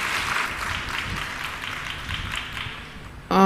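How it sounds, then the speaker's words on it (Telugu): Church congregation applauding ministry workers, a moderately loud wash of many hands clapping that gradually fades over a few seconds before a voice cuts in at the end. "అన్ని విభాగాల వారికి ఒకసారి చప్పట్లు కొట్టండి."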